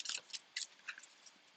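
Psychic reading cards being shuffled, a few quick crisp riffling snaps close by and quiet, over roughly a second and a half.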